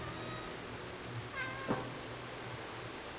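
A cat meows briefly in the video game Stray, one short call rising over a steady low game ambience and music bed, fairly faint and alone without talk.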